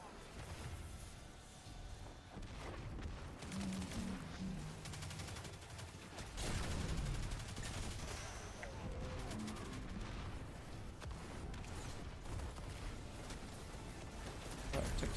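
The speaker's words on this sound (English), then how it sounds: "I don't know why I'm still getting shot at." Dense, continuous gunfire in the Destiny 2 mission Zero Hour, with overlapping shots and blasts forming a loud, unbroken barrage that swells midway.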